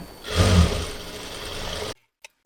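A sewing machine stitches a 1.5-inch fabric strip onto a yoke-style dress, a close, steady motor hum for under two seconds that then cuts to near silence with a couple of faint clicks.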